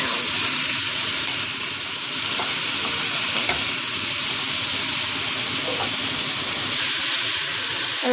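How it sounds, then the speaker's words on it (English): Beef browning in hot oil, a dense and steady loud sizzle that carries on unbroken for several seconds, close up, with faint occasional clicks and no speech. "Now let's add the beef here into the oil here. And what we want to do here is let it cook until"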